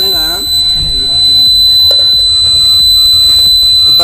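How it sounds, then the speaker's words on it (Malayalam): A water tank alarm buzzer sounds as the tank fills, a loud electronic tone with a steady high pitch under close talk, along with other clattering noises. "ഇത് വെള്ളം നിറഞ്ഞപ്പോൾ നിങ്ങൾക്ക് ബസർ ഇവിടെ അടിക്കുന്നത് കാണാം"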